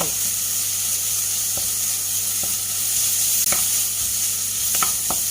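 Thai curry paste stir-fried in a pan for a river snail curry, a constant sizzle and hiss with occasional scraping taps of the spatula, close, no talking.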